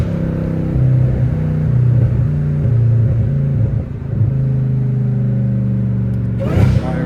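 Supercharged Dodge Hellcat Redeye with a catless exhaust, its engine droning loud and close in steady, rising and falling revs, with a harsher burst near the end.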